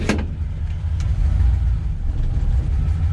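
A 1953 Mercury Monterey engine runs steadily close by, with a low, even rumble and a light ticking from a valve that clatters when cold.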